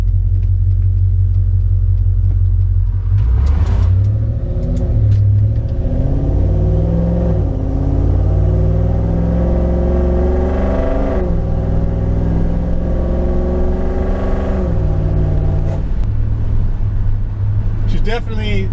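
Coyote V8 engine swapped into a Ford Ranger pulling under acceleration while driving, a loud steady low rumble with rising and falling harmonic sweeps as the revs climb and shift, with someone talking over it.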